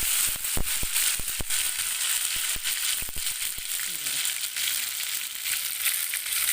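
Pieces of chicken fry in oil for a village-style dry curry, giving a dense, continuous sizzle close by, sprinkled with sharp pops and crackles.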